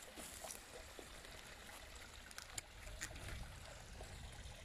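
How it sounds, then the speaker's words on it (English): A small waterfall trickles down in woodland by a beck, a faint, steady wash of running water with a few soft splashes and clicks, heard from a little distance. "See that little waterfall just like trickling down there?"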